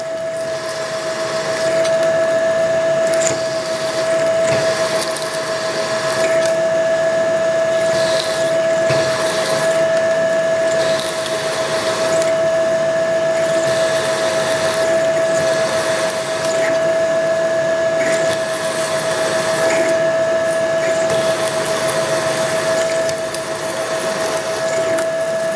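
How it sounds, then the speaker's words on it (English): A steady high whine of a drill cutting metal runs on and on, loud and close, with machine noise pulsing in repeated passes. "Let's drill some holes."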